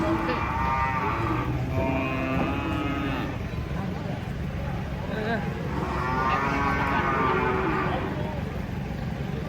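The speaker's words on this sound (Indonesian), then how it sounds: "Banyak sapi ngamuk guys." Cattle being unloaded from a truck low repeatedly in long, drawn-out moos over a constant rumble of engine or background noise, two main calls standing out with overlapping voices and commotion.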